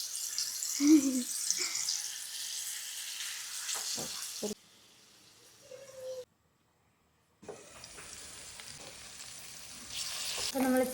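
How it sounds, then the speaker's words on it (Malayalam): Chicken frying on a flat tawa, sizzling and crackling in bursts broken by a brief pause and a stretch of near-silence, with occasional clatter and faint handling noises. "ആദ്യം തന്നെ നമുക്ക് ചിക്കൻ പൊരിച്ചെടുക്കാം തവ ഫ്രൈ ആക്കി എടുക്കാം"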